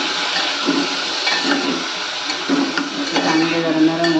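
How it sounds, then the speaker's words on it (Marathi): Finely chopped tomatoes go into a hot pan of softening onions and curry leaves for Marathi tomato saar, raising a steady, close, watery sizzle and hiss that carries through the whole stretch. "आता टोमॅटो टाकते बारीक केलेले"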